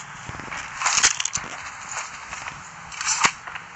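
Sniper rifle fire in the mobile shooter Call of Duty Mobile: a few sharp, cracking shots with clattery transients over steady game ambience, no talking.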